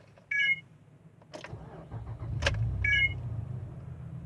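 A Ridgeline's engine cranks and catches, settling into a low steady rumble, with a couple of faint chirps and clicks earlier on.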